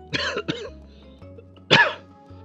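Two quick coughs, a pause, then one louder cough, close to the microphone against a low background hum.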